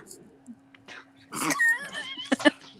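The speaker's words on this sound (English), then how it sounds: "Did you just cough on your teeth?" A person coughs harshly once or twice and clears their throat, close by, followed by a short strained vocal sound.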